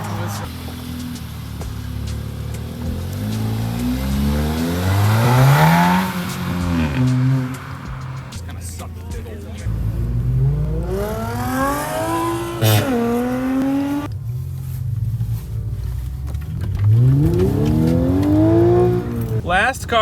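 Cold-weather Cars and Coffee meet where an Audi pulls away hard, engine revving loudly through rising gear sweeps with sharp shifts between them, passing close then fading, with crowd chatter and voices underneath.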